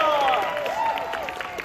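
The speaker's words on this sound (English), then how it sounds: "Give this person a round of applause!" A magic show audience applauds and cheers, a moderate spread of clapping heard under a prominent talking voice that carries over the crowd.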